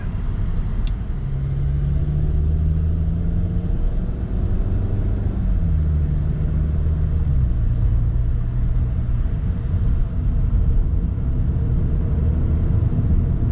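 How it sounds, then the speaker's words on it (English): Car engine revving under throttle on a transmission test after the gearbox ran out of oil, a steady loud low rumble with pitch rising and falling through the gears, no talk. "That's me on the throttle right there."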